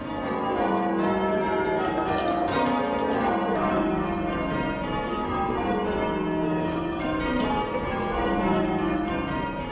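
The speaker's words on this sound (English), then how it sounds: "When we're ringing, there are two parts to our ringing action." Church bells rung by a team of bell ringers in North Shields sound continuously, overlapping rounds of strikes ringing out with a full, sustained tone throughout.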